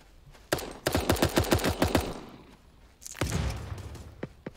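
Rapid automatic gunfire in Super Animal Royale, a burst of about a dozen sharp shots, then a short pause and a few more scattered shots and a thump.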